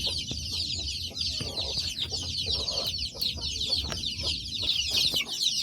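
Free-range native chickens cluck in scattered short calls across a simple Philippine farm, moderately distant, over a constant high-pitched insect drone.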